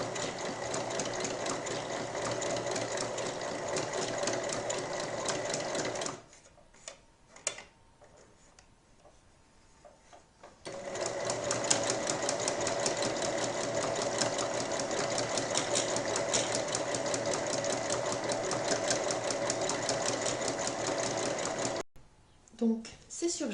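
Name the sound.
sewing machine overlocking fabric strip seams for a cushion cover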